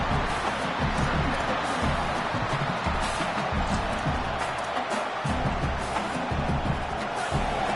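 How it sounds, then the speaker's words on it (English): A football stadium crowd roars to urge on the defense before a red zone play, a steady, distant wash of cheering that swells in waves. "And here comes the noise. This crowd is trying to inspire this defense to make a big red zone stop."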